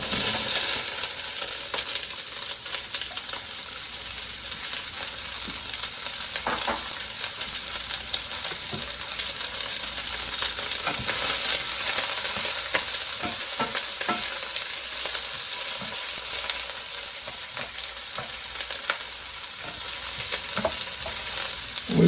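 Onions sizzling in a pan over medium heat for a sea scallop and steak stir fry, a continuous bright hiss with occasional crackles and scrapes, steady and close, no talking.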